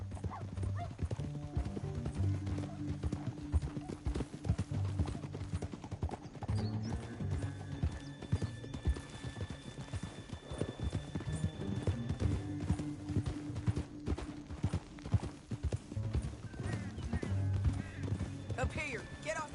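Horses in Red Dead Redemption 2 clip-clop steadily across rough ground, hooves thudding in a quick continuous rhythm with an occasional whinny, mixed with game music and voices talking.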